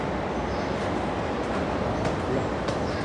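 A metro train rumbles through a station three levels below the road, a steady loud low roar of wheels and carriage noise filling the space with faint hiss on top, continuous throughout.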